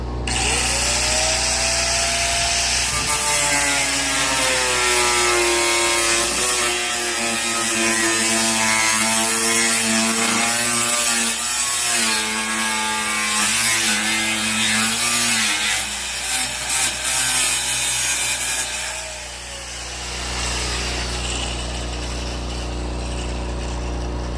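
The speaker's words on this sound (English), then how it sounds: "I'm actually pretty comfortable with an angle grinder with no guard, right?" An unguarded angle grinder cuts steel for a homemade bucking bull dummy, a loud sustained whine that rises and wavers in pitch as the disc bites, then drops to a lower steady drone near the end.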